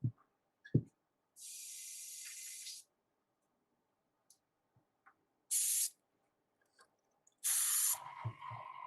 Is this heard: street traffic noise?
no